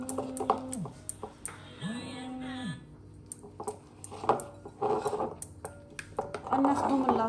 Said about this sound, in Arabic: نخلط العناصر كامله